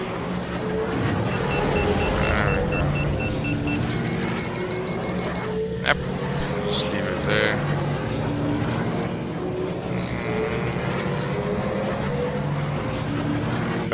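A pod racer engine roars steadily in a racing video game, a dense, continuous mechanical drone with whining tones, a few sharp clicks and sweeping shifts in pitch, and no talk over it.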